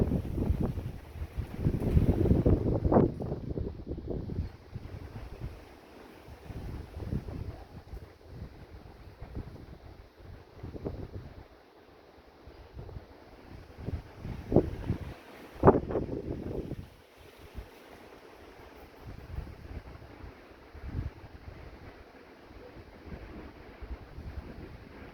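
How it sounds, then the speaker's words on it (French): Strong gusty wind during a severe supercell thunderstorm buffets the microphone in irregular rumbling bursts, loud at times and then easing off, with no speech. "Bon, il y a un vent maintenant."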